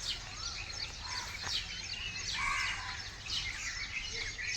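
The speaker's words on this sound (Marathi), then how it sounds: "किती मस्त आवाज येतो आहे पक्ष्यांचा बॅकग्राऊंडला" Birds chirp and tweet steadily in the distance, layered calls overlapping against a soft ambient hum, with no one talking.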